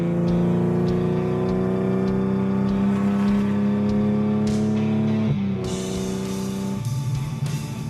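A restored classic car drives through town, its engine droning steadily with strong low harmonics, then the pitch drops and shifts as it changes gear near the end; close and loud, no talking.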